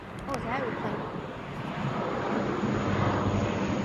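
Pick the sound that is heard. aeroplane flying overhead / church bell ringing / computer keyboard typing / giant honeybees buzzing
aeroplane flying overhead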